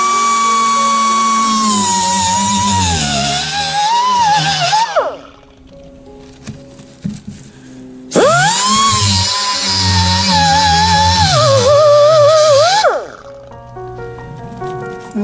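Cut-off tool slicing through a model railway turnout, two loud close whining bursts that wobble in pitch as the disc bites, separated by a brief pause while the motor spins down.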